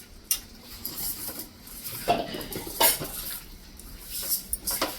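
A spoon stirs fish curry with green chillies in a metal pot, giving intermittent scrapes and sharp clinks against the pot's sides, close and fairly distinct, with no one talking.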